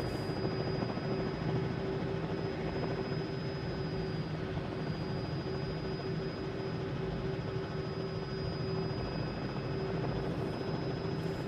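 A steady, continuous Robinson R66 helicopter rotor and engine drone in Microsoft Flight Simulator 2020 fills the whole stretch, loud and unchanging with a constant whine, and no voices.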